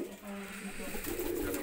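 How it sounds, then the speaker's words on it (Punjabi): Pigeons of a prized red-headed breed coo softly in a loft, a low murmuring call repeating through the short stretch amid some background noise. "ਇਹ ਵੀ ਬਾਈ ਗੁਲਜ਼ਾਰ ਸਤਮਾ ਜੀ ਦੇ ਕਬੂਤਰ ਨੇ"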